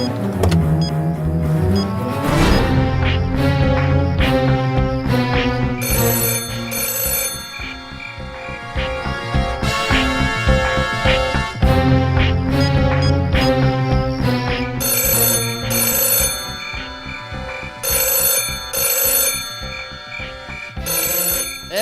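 Mobile phone rings at night, a loud, close electronic ringtone melody repeating in bursts for over twenty seconds, tonal and insistent, with no voices over it.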